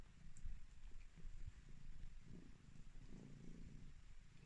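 A barn cat purrs close and soft, a steady low rumbling flutter running the whole time with faint background noise and no talk.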